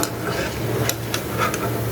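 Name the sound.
stirring and frying Kerala pal cake sweets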